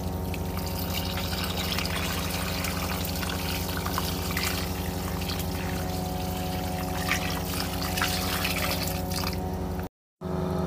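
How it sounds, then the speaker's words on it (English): Water pours steadily onto potted plants in a sunny balcony garden with railing planters, a continuous close trickle and splash running for about ten seconds before a brief cut-out; no talking. "Now time to water everything once again"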